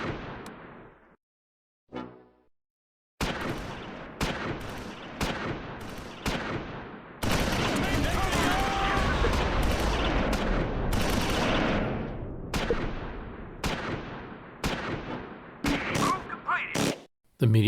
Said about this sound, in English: The medium machine gun now fires on German infantry in the open near the Pont de Pierre.